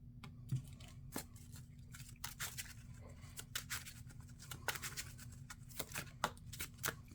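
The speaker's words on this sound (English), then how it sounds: "put the criminal enterprise environment into play, and then shuffle the deck and advance" A deck of Marvel Champions cards is shuffled by hand, quiet close riffling and snapping bursts in irregular clusters over a faint low hum, with no talking.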